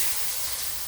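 Steady hissing sizzle of coconut milk hitting a hot pan, continuous and fairly close, with no talking.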